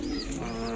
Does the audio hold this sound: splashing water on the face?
no